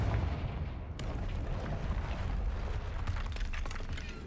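Confringo spell blast in the Hogwarts Legacy video game, a sharp explosive burst followed by rumbling, crackling debris and scattered pops, fairly loud and close, with no voices.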